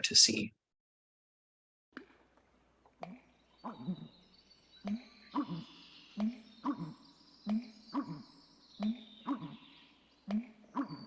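A recorded American bittern in a marsh gives a repeated guttural, liquid pumping call, about ten evenly spaced deep gulps in a steady rhythm, faint and alone after a brief spoken word at the start.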